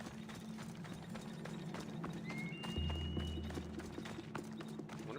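Horse hooves clip-clop in a steady gallop in Assassin's Creed Odyssey, close and continuous, with a brief whinny partway through over a low ambient game hum.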